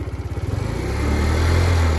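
A Kymco Super 8x 50cc scooter with its CDI rev limiter wire cut revs at full throttle, a close, loud engine note pulsing at first then rising into a steady high drone.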